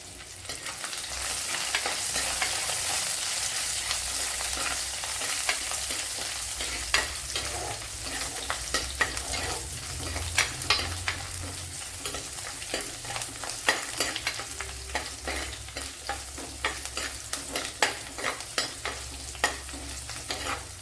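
Ginger, garlic, curry leaves and fenugreek frying in hot oil for a Kerala-style fish curry, a continuous crackling sizzle broken by frequent stirring scrapes and clicks, close up with no speech.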